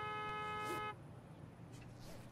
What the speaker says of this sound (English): Stop honking above my head.